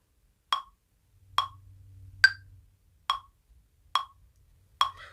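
A metronome app ticks at 70 beats per minute, six sharp isolated clicks evenly spaced in near silence, with a faint low hum briefly underneath.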